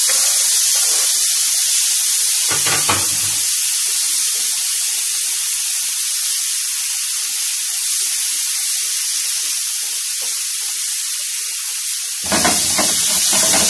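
Tomatoes hit a hot pan for a vegetable maqluba, giving a loud, steady sizzling hiss that runs unbroken, with a couple of brief clatters from stirring.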